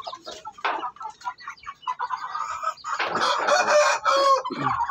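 A month-old young rooster (stag) crows in a backyard chicken coop, its strained, breaking call rising over several seconds amid other clucking fowl, fairly close and loud with no talking.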